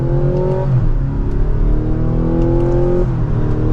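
A 2024 Mazda CX-90 Premium Plus accelerates in sport mode in second gear, its engine note climbing steadily with one shift-like dip and then rising again, heard loud and close from inside the cabin.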